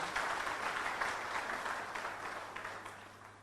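An audience breaks into steady, moderately distant applause, a continuous wash of many clapping hands that slowly fades, with a low hum underneath.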